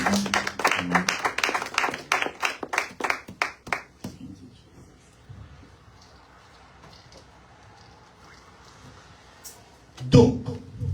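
A church congregation claps rhythmically, loud sharp hand claps in quick succession for about four seconds before fading into low murmuring room noise, then a brief burst of sound near the end.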